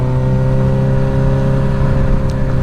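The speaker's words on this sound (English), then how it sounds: "this Dominator exhaust is pretty loud" A 2025 Suzuki GSX-S1000 motorcycle with a full Dominator exhaust idles loud and close, a deep, steady throbbing drone with strong low harmonics and no pauses.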